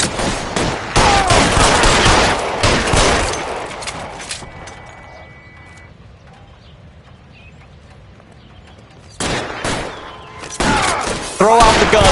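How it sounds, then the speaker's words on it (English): Gunshots fired at car tires in L.A. Noire, loud sharp bursts of fire at the start, then a quieter stretch of low rumble before more shots break out near the end. "Fire a warning round"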